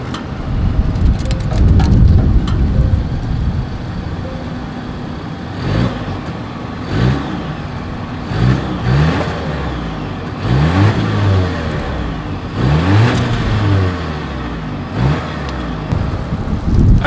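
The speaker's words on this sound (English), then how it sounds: "Here is that exhaust clip." A 2022 Volvo S60's exhaust revs repeatedly, rising and falling in several bursts with a deep, throaty tone, close and loud against a steady background hiss resembling rain.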